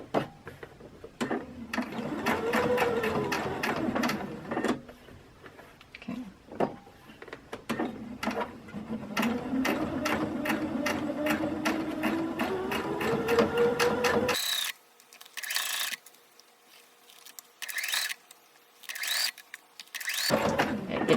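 Sewing machine doing a straight stitch through polo shirt fabric, with rapid, close, even mechanical clatter in bursts and a whirring motor tone, pausing briefly before a few shorter stitching runs near the end.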